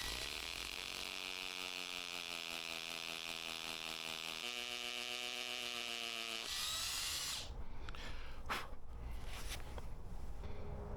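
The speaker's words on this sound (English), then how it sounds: "you can put the drill vertical again and start drilling the hole" A power drill whirs loudly and continuously, its pitch shifting as it bores into stone, then stops, followed by scraping and clattering.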